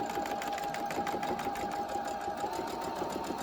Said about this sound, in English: sew right on each side going down, so just a little bit away from the edge, okay? And do not forget to backstitch after you forward stitch a bit.